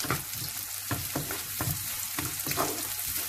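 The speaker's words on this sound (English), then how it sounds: "I'm going to nicely fry this. I am also going to add 1 green chili into this that's cut into pieces." Vegetables including carrot, peas and chopped green chili fry for upma in a pan, giving a close, steady sizzle with regular scraping stirs of the spatula about every half second.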